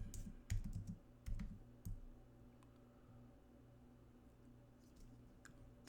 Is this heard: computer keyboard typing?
yes